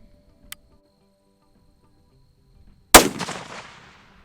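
A Browning X-Bolt Hells Canyon rifle in 6.8 Western fitted with a radial muzzle brake fires a single loud, sharp shot outdoors, followed by a rolling echo that fades over about a second, preceded by a faint click.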